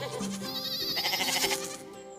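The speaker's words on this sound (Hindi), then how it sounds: "बकरी" A goat bleats in one long, wavering, quavering call, close and fairly loud, tapering off at the end.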